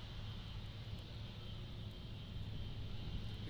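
A KLM Boeing 777-200 heavy airliner departs Amsterdam Schiphol bound for Los Angeles, a steady, broad jet roar with a low rumble that holds evenly throughout, heard from a distance without talk.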